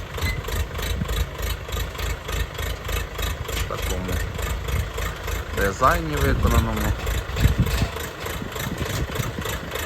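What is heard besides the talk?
tractor engine idling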